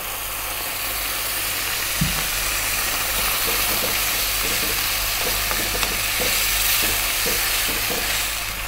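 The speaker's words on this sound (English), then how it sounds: "Then we're going to add 400 ml of coconut milk." Coconut milk poured into an egg curry pan sizzles and hisses steadily throughout, with a few light stirring clinks close by.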